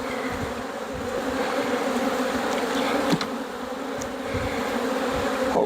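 Honey bees hum steadily around a corner hive being rebuilt after a wax moth invasion, a dense close buzz that holds at an even level throughout with a few individual bees passing near.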